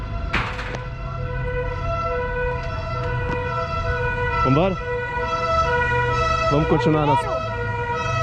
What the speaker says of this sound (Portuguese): Uma ambulância de bombeiros.